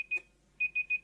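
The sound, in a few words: alarm going off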